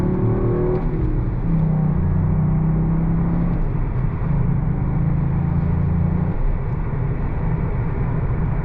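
A Toyota GR Yaris 1.6-litre, 261 hp engine rumbles and revs steadily with a low droning exhaust tone through its exhaust valve, loud and close, with no talking.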